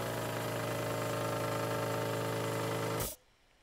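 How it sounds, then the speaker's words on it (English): A leaking air compressor, repaired and recharging, runs with a steady loud mechanical drone and rhythmic pumping vibration, then cuts off abruptly near the end, leaving quiet. "Recharging the air compressor."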